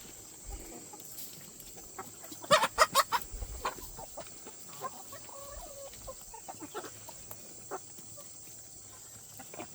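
Chickens clucking at a moderate distance, with a short burst of louder clucks early on and scattered softer calls over outdoor background noise.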